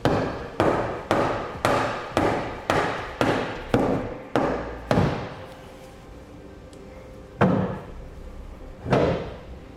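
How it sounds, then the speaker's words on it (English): A dead blow hammer taps a fifth wheel hitch rail into place on a 2008 Ford F-450, about a dozen sharp, evenly spaced blows close by, then a pause and two more heavy hits. "you may just need to tap it. I'm going to use a dead blow hammer"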